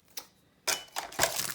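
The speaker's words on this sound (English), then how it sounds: "So let me just open that up with some scissors here that I use for anything like paper," Scissors snipping open a paper list pad, with a few quiet separate crisp cuts close by and no talking.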